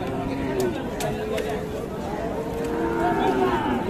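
Sahiwal and local breed bulls at a Dinajpur cattle market, lowing in low drawn-out calls through steady crowd chatter, with a trader's voice talking close by.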